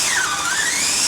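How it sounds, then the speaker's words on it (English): A drill fitted with a 7/8 blade bit recessing a Dynabolt into a timber foundation beam for a log cabin, giving a loud, high whine that dips briefly in pitch under load and then climbs again, with no voices. "I've got a 7/8 blade bit just to recess that Dynabolt down"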